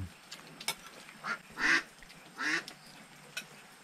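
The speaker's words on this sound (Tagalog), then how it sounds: "Uwi na kayo mga itik. Ingay nyo." Ducks quacking near a farm hut, several short raspy quacks spaced out over a few seconds against a quiet background.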